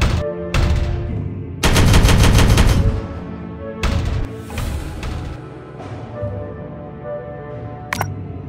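Gunfire in the Warhammer 40K Regicide video game: loud bursts of rapid automatic fire and heavy single shots, with a long sustained burst in the middle and sharp cracks trailing off.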